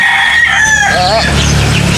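A rooster gives a quavering crow close by, with chickens around it and a steady background hum.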